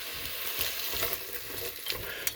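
Chopped onions sizzle in hot bacon fat while a spatula stirs and scrapes them around the pan, a dense close frying hiss with brief scraping bursts.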